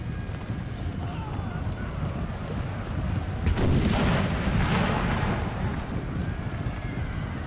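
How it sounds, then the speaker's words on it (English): A Napoleon Total War battle rumbles with booming artillery fire, a heavier blast swelling midway over a constant wind-like roar of the battlefield, with faint voices underneath. "Maybe they got spooked by the artillery."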